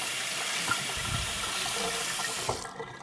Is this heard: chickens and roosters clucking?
no